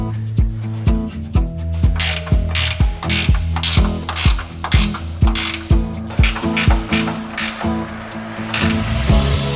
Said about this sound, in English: Now the final step is to bolt the platform to the backbone using the provided hardware